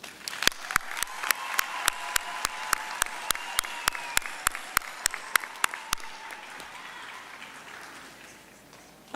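Graduation ceremony crowd at the UFS campus applauds steadily, with one nearby clapper striking sharp, evenly spaced claps over the wash for about six seconds before the applause thins and fades.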